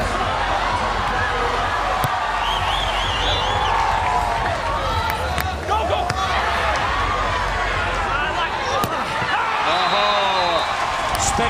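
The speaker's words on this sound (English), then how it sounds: "Crowd are absolutely loving it, and have every reason to do so" Crowd at a beach volleyball quarterfinal between Canada and Poland, a loud, sustained wash of cheering and shouting with scattered sharp claps and thuds throughout.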